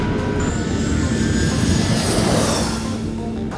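Singapore Airlines jet airliner roaring steadily during takeoff, a loud continuous broadband engine rush with a rising whine, heard from inside the cabin throughout.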